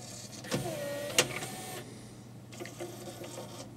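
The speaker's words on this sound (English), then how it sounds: "let's see if the laser travels across the bar or whether it gets stuck or it makes any horrible noise" A Pioneer CLD-D925 laser disc player's laser assembly travels along its rail, giving a soft motorised whir with a rising and falling pitch sweep, a sharp click partway through, and faint mechanical rattles, close and quiet with no talk.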